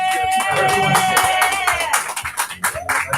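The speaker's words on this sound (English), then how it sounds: "So give her a round of applause, and then give everybody else a round of applause." A live audience at a radio show event applauds in a brief, steady wash of clapping that thins into scattered claps toward the end, with a voice briefly heard.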